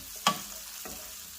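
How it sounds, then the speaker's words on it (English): Sliced, rinsed mushrooms saute in a pan for a chicken and asparagus casserole, giving a soft, steady sizzle with a couple of brief clinks of stirring near the start. "we're going to saute them up."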